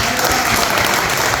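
Steady, dense applause from a seated audience inside the British Parliament at a gathering honoring an Indian saint, continuous and loud throughout with no pauses.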